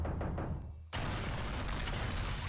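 A cluster bomb goes off in the video game Teardown, a sudden loud broadband blast that cuts in partway through and then holds as a dense, sustained rumble of overlapping detonations and crackling debris.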